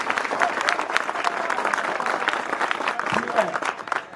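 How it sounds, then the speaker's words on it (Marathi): Men in the audience at a women's game-show event clap together in a sustained, fairly loud round of applause, with crowd voices and chatter mixed throughout. "आता पुरुषांनी टाळ्या वाजवायचे."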